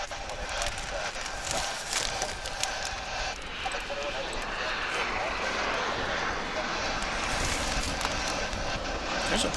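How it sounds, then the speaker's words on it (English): A jet airplane landing at DFW International Airport roars as a steady, broad engine rumble throughout, with a person talking nearby over it. "There's a plane coming in."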